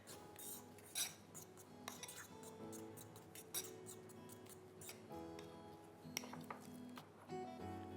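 A spoon clinks softly and irregularly against a bowl while roasted almonds are stirred into a chocolate cheese dessert mixture, with faint, scattered taps and scrapes.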